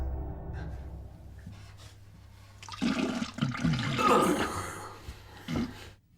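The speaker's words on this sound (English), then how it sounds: "have you ever taken a shit so bad that you have had to flush twice?" A toilet flushes, a rising rush of water swelling midway and then draining off, fairly close and loud, with low background noise and a brief breathy sound near the end.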